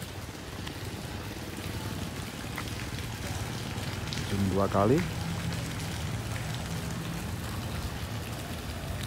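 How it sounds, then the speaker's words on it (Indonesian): Light drizzle falls outdoors, a soft, continuous patter of raindrops across the whole stretch, while someone speaks briefly partway through. "ini aja masih gerimis"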